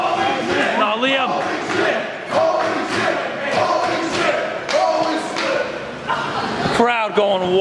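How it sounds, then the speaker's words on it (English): Wrestling crowd at a tornado tag handicap match cheering and yelling wildly, loud and continuous with shouts and thuds, mixed with voices throughout. "Crowd going wild."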